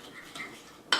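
Utensil mixing pecan tartlet filling of sugar and corn syrup in a bowl, giving soft scraping strokes and one sharp clink against the bowl at the end, close and quiet with no talk.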